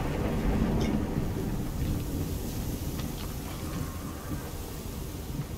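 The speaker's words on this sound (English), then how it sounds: "Oh, yeah, I'm right above a storm." A thunderstorm in Horizon Forbidden West fills the scene with steady rain and wind noise, a constant wash with faint crackles and a low rumble rising and fading, and no voices.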